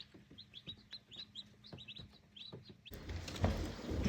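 Newly hatched baby chicks peep in a rapid series of high, thin chirps near an incubator, followed by a burst of handling rustle and noise toward the end.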